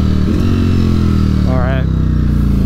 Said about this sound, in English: For a stock exhaust, these bikes sound so amazing.